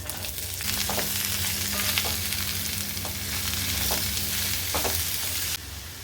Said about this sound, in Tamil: சொரக்காய் நல்லா வதங்கணுங்க